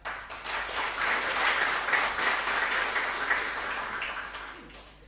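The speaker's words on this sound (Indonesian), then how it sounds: "Kasih tepuk tangan." Applause from an audience at a religious lecture, a dense wash of many hands clapping that swells quickly, holds steady for several seconds and then gradually fades.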